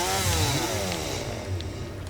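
A chainsaw revs steadily in the factory-building game Satisfactory, a loud buzzing whine with shifting pitch that holds for about two seconds, with no talking over it.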